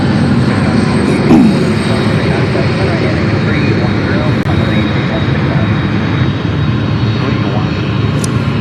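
Aircraft engine roar fills the air at Memphis International Airport, a loud continuous broadband rumble and whine, with a voice talking over it.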